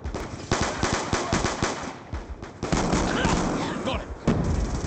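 Gunfire in Call of Duty Black Ops II, with rapid bursts of loud machine-gun fire and scattered single shots crackling close by, mixed with shouted voices and battle noise.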